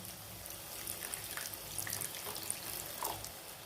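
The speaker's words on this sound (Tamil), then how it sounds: "இப்போ இந்த மாதிரி எண்ணெய் நல்லா பிரிஞ்சு வந்ததுக்கப்புறம் இதில் நம்ம கொஞ்சோண்டு தண்ணி ஆட் பண்ணி விடுவோம்." Water is poured into a village-style mushroom masala simmering in a pan, giving a steady, close trickling and sizzling wash with small splashy bursts, and nobody talks.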